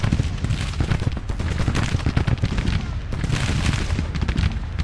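Cannon and artillery fire rumble over a Civil War battlefield in the strategy game Grand Tactician, as a steady barrage of booms and crackling musketry rolls on without pause.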